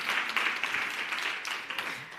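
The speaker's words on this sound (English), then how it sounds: "So I think we can give a second round of applause." An audience at a women's economic development leadership forum gives a second round of applause, a brief, moderately loud wash of clapping hands that stays fairly even.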